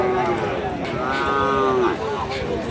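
A Sahiwal cow lets out a single drawn-out moo close by at a crowded cattle market, with a steady murmur of voices and crowd noise underneath.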